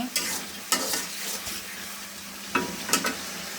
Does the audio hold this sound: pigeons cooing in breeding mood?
no